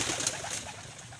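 Pigeons released from a loft take off together, heard as a short, faint burst of fluttering wings and airy rustle.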